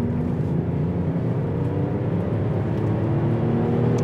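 A 2024 Renault Espace hybrid of about 200 horsepower, driven by both its petrol engine and electric motor, accelerates from a standstill, heard from inside as a steady low engine drone and whir that rises gradually in pitch.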